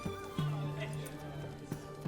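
Horse in The Witcher 3: Hearts of Stone, a whinny with a long steady tone and a few soft hoof clops, heard under game dialogue and background sound.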